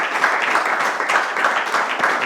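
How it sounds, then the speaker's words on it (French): Audience applause for the jury at a French school contest TV show, a steady, dense wash of clapping from a crowd filling the whole moment. "Est-ce que le public peut faire un tonnerre d'applaudissements quand même pour notre jury?"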